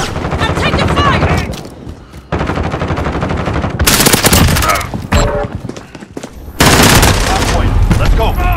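Dense automatic gunfire and heavy booms from Call of Duty: Modern Warfare Hardpoint multiplayer on PS4, loud and near in sustained bursts with brief lulls, while game voice callouts play underneath.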